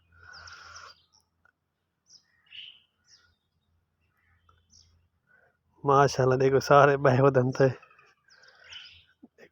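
Pigeons flocking in to feed on scattered grain, with soft coos and calls, a brief burst of rapid chirping calls near the middle, and someone speaking at the start and end.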